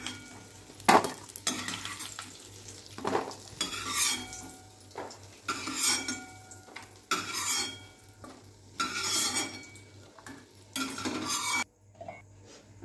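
Onion and cashews frying and being stirred in a pan, with bursts of sizzle between spoon scrapes and clinks of metal cookware, close and moderately loud.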